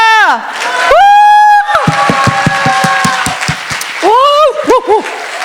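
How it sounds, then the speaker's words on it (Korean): Church audience applause and cheering during a sermon, with loud crowd noise and shouts swelling over sustained sung or shouted voices, then ebbing as voices rise again. "환호와 박수를 주님께 올려드리십시오"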